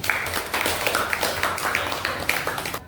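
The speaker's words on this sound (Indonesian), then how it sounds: "Tepuk tangan dulu." Applause from a classroom of students, a steady, close patter of many hands clapping for about three seconds, fairly soft and even.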